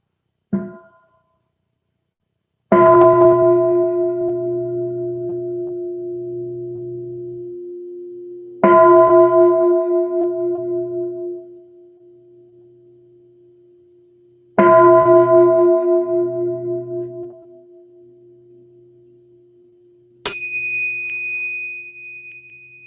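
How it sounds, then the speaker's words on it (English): A meditation bell is struck three times, each deep ring swelling and slowly fading, followed by a brighter chime at the end, in otherwise quiet surroundings. "let's listen to 3 sounds of the bell"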